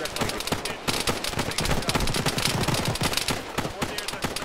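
Rapid bursts of rifle and machine-gun fire crackle throughout an Arma military game firefight with the ShackTac group, dense overlapping shots near and far with no pause.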